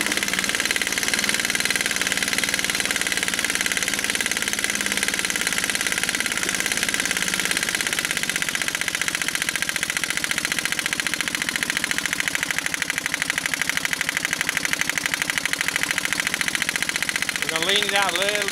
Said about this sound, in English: Gonna lean it out a little bit here to make it idle a little smoother.